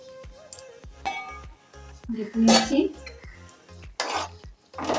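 Cookware clatters near and loud in a Bengali home kitchen as potatoes are braised for chhana kofta curry and the pot is covered with its lid, with clinks of metal on metal and a brief scrape, under some faint background talk.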